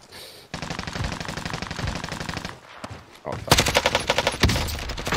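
Call of Duty Warzone gunfire, with a long rapid automatic burst, a brief pause, then further heavy bursts of loud, close shots, under occasional talk.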